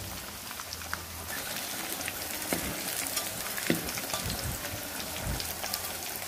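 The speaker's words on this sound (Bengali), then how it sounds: "এখন আমি এটা তেলে ভেজে নিব" Thin slices of teasel gourd (kakrol), coated in turmeric, chili powder and salt, fry in hot oil with a steady, close crackling sizzle and occasional louder pops, with no voices.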